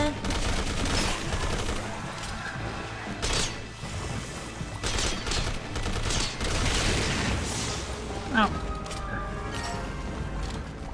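Dense video-game gunfire in Resident Evil 6's Mercenaries No Mercy rooftop mission, rapid overlapping shots and bursts filling the mix continuously with booms and mechanical clatter, loud and close throughout.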